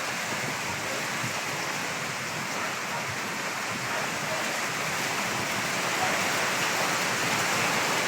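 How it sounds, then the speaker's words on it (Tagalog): Heavy rain of large drops pours steadily and loudly outdoors in strong wind beside a swollen, muddy brown river, a dense continuous wash with no voices. "Malalaki po ang patak ng ulan."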